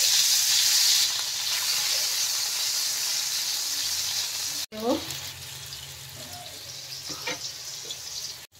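Potatoes with black cumin seeds hit hot oil for a Bengali tangra fish curry, giving a loud, hissing sizzle that settles into steady frying, with a short break and a brief voice speaking partway through.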